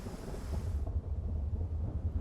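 A thunderstorm rumbles low and heavy over the desert meerkat burrows, with gusty wind and rain hiss that fade away midway, leaving a deep steady roar with no voices.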